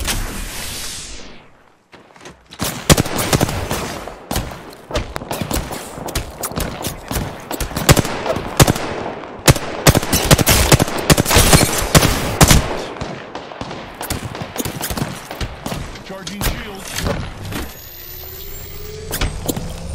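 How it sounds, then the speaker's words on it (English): Gunfire crackles in a game of Apex Legends, dense rapid bursts of shots dominating a chaotic firefight with loud, near impacts and mechanical clatter, with only brief lulls between volleys. "I'm getting shot."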